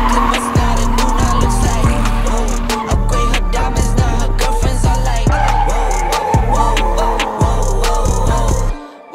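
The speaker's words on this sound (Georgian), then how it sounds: "დავიწყოთ დრიფტაობა ამ მანქანით ჩვენ უსაყვარლეს ადგილას" A Nissan 350Z drifting produces a loud, continuous engine roar with repeated revving surges and tire squeal. It holds up nearly throughout, then cuts out abruptly at the very end.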